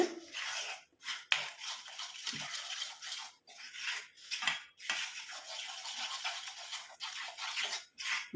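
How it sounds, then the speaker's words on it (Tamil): Hair dye paste being stirred in a bowl, a soft, continuous scraping and swishing in quick repeated strokes, close and fairly quiet. "நல்லா கட்டிகள் இல்லாமல் கலந்து விட்டுருங்க"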